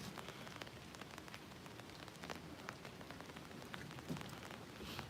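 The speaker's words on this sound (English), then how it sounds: "I don't mind that it's raining." Steady rain falling outdoors on a mild 65-degree day, a dense continuous patter of drops hitting surfaces with scattered sharper taps, close and fairly quiet, no one talking.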